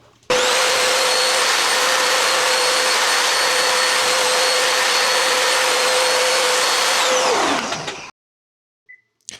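A table saw cuts a 3–4 mm rebate for the lid into the top edge of a wooden mitred box, giving one loud, steady whine for about seven seconds before spinning down into silence.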